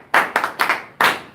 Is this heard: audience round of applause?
yes